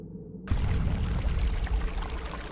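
After a moment of silence, water suddenly begins pouring in the horror video game Imago: Beyond the Nightmares, a heavy, sustained gush that stays loud and steady to the end.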